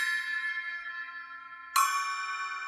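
A 6- or 8-inch bell cymbal on a drum kit rings with a pure, sustained metallic tone, then is struck again sharply and rings out alone.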